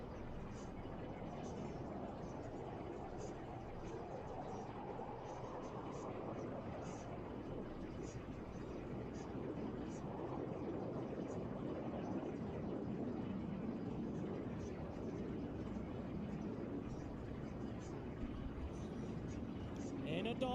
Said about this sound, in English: accelerate rapidly and snap the F-16 through a series of aileron rolls